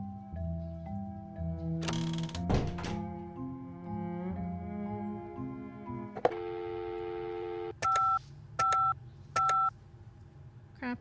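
Phone keypad tones from the Penelope Pendrick video game: a string of overlapping electronic beeps and a buzzy tone, then a short run of three evenly spaced dialing beeps, clear with no talk.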